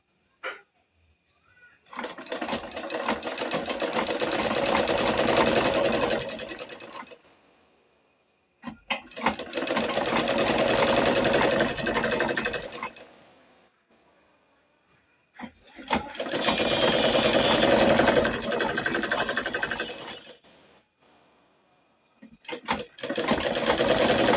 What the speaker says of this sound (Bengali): এখন আমি আগে আমার ফিতাগুলোকে সেলাই করে নিব